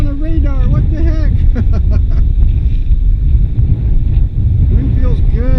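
Outdoor wind rumbling loudly against the microphone, steady and close throughout, with someone talking over it.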